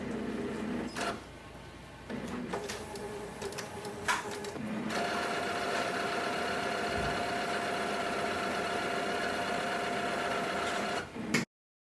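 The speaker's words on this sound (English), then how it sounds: "it will also take few minutes for the print head cleaning" A Brother MFC-J4535DW inkjet printer runs its automatic print head cleaning cycle: continuous mechanical whirring and motor hum with shifting tones and occasional clicks, close and fairly loud, before stopping abruptly.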